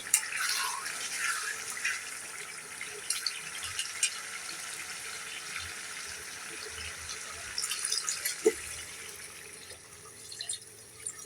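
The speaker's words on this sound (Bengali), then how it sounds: "আমি ভালো করে কষিয়ে নিয়েছি এখন পানি দিয়ে দেবো" Water is poured into a pan of spiced beef curry cooked with mung dal, making a steady hissing, trickling wash that runs continuously, with a few soft clinks near the end.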